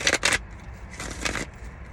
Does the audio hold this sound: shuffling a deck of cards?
yes